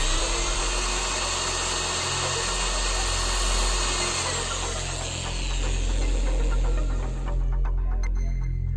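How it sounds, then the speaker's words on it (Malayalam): A power drill bores a hole into a wooden stick during a table-lamp build, a loud continuous whirring drone with slight rises and dips in pitch that winds down near the end. "നമുക്ക് ഡ്രില്ലിംഗ് മെഷീൻ ഉപയോഗിച്ച് ഒരു ഹോള് ചെയ്തിട്ട്"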